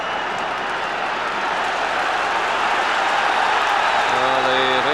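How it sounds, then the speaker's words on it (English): A Rangers football crowd at the stadium, during a 1994 match against Hearts, makes a steady, broad roar of cheering and applause while a commentator's voice comes in near the end. "The Rangers crowd getting right behind their team."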